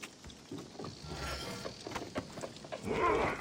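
Animal howling in the video game Assassin's Creed Origins, a drawn-out wavering cry rising out of scattered ambient game noise and growing louder toward the end.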